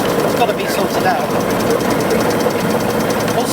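A small Stirling engine in a model boat, revving fast while turning a dynamo through a friction drive, gives a steady, busy mechanical rattle and whir that runs continuously and close up, with no voices over it.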